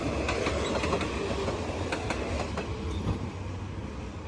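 A freight train rolls past a level crossing on Si Ayutthaya Road, Bangkok, steadily and loudly, with a continuous rumble and repeated clickety-clack of wheels over rail joints.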